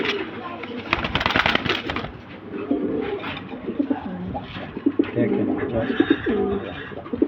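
A breeding pair of Netherlands racing pigeons coo softly and repeatedly in a loft. The low coos carry steadily over a noisy background, with voices talking over part of it.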